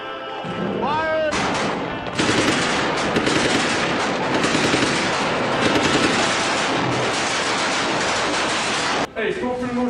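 Soldiers firing guns in combat in Iraq: a loud, dense burst of sustained automatic gunfire fills most of the clip, with shouted voices before and after the barrage.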